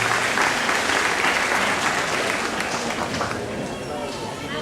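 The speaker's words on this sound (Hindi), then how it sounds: "एक बार जोरदार तालियां हो जाए इनको।" Hearty audience applause at a Hindu temple Bhagavat Katha gathering in Fort McMurray, many hands clapping in a sustained, fairly loud wash that tapers slightly toward the end, with some voices mixed in.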